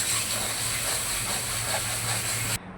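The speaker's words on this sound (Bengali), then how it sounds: "এই যে আমি মশলাটা ভালো সুন্দর করে আগে কষিয়ে নিচ্ছি।" Spices being sautéed in a pan, a loud continuous sizzle and hiss held steady, then cutting off abruptly near the end.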